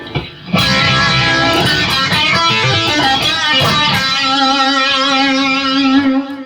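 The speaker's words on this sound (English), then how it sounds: "I've added some delay, some reverb, and a rotary speaker to this profile" An electric guitar through a Kemper profile of a Peavey JSX amp plays a swirling, warbling line soaked in echoing delay and reverb, with a rotary-speaker rotating, wobbling tone throughout.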